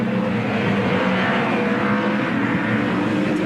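A 1.5-tonne V8 Supercar at racing speed around the Phillip Island circuit, its engine a loud, steady roar held throughout with no voices.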